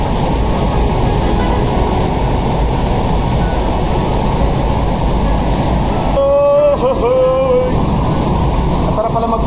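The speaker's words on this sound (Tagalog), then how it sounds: "Pakinggan yung dagungdong ng agos ng tubig." Roaring rush of water at the Pangandilan rock formation and falls, a loud steady broadband torrent that fills the whole stretch, with a voice briefly speaking over it near the end.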